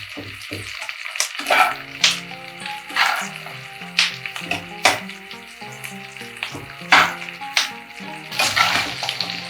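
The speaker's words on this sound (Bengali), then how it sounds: "এবারে এগুলো হালকা করে ভেজে নিতে হবে।" Onions frying lightly in a pan for a Bengali-style Chicken Patiala curry, a steady close sizzle with repeated sharp scraping and stirring strokes every second or so, with no talk.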